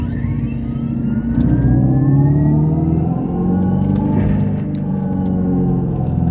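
A Dodge Charger Daytona R/T accelerating hard in power shot mode, a loud, close drivetrain note climbing steadily in pitch with a high whine rising alongside it.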